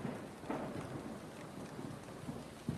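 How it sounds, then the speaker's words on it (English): Hard rain pours with rolling thunder, a constant hiss of downpour broken by several soft, muffled low thunder rumbles and one sharper crack near the end. "the drizzle had become a hard rain."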